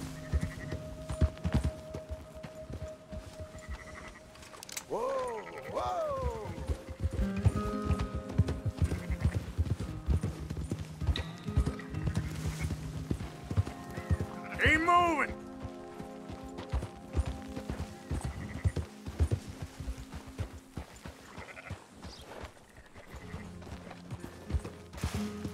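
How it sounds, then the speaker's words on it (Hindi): Horse hooves clip-clop at a fast gallop in Red Dead Redemption 2, steady and close, mixed with game music, bleating animals and a brief whinny. "हम घोड़ा ज्यादा तेज चला दे गो"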